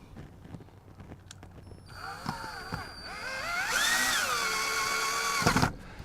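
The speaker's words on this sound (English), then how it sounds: "Now the first thing I'm going to do up top here is throw in the top railing screw." A power drill drives a screw into the top rail of a window screen, a steady whirring drone that rises and swells for a few seconds before cutting off, near and fairly loud with no talk.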